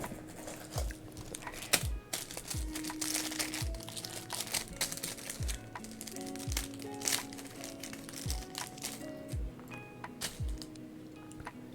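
Plastic bags crinkle and rustle steadily while being handled during crochet work, with repeated crisp crackles and soft thumps close by and no talking.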